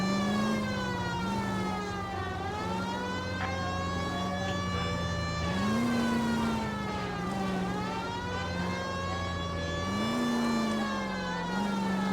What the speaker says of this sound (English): Oh, my sirens went off.